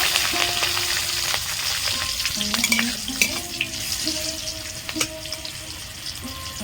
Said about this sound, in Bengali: ফোড়নে দেব গোটা গরম মশলা সাদা জিরে শুকনো লঙ্কা চেরা কাঁচা লঙ্কা দেব